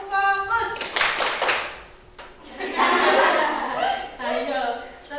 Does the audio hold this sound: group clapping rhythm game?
yes